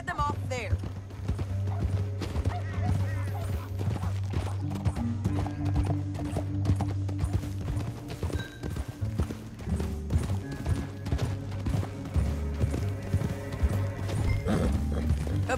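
Hooves clip-clop in a steady galloping rhythm as horses run in Red Dead Redemption 2, loud and continuous throughout, with an occasional whinny and voices talking over the hoofbeats.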